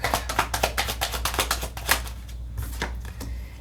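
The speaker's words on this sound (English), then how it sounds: "Oh, it's too many cards. Let's shuffle again." Tarot cards are shuffled by hand in a quick, rapid riffle of crisp papery flicks, close and steady, then slowing into a few looser taps with no talking.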